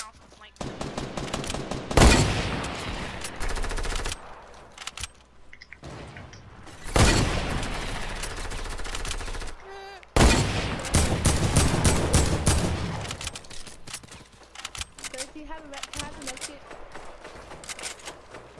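Rapid bursts of automatic gunfire from a video game shooter come in several long, loud volleys separated by short pauses, with booming impacts between, and a player talks over parts of it.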